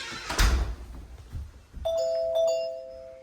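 A Unifi G4 Doorbell Pro chime rings from upstairs after a button press: a couple of dull knocks first, then a clear two-tone electronic ding-dong that sustains and rings out, moderately loud, with no talk.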